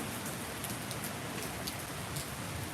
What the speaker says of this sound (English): the rain is still coming down, but not as heavy